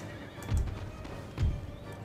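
Horses in the video game Empire Total War neighing during a battle, two loud whinnies about a second apart over a steady rumble of hooves and battle noise.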